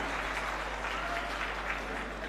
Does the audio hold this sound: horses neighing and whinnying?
no